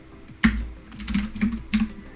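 Keys clack on an original IBM PC/XT keyboard as commands are entered into DEBUG, a handful of loud, close keystrokes in an irregular rhythm with a faint hum beneath.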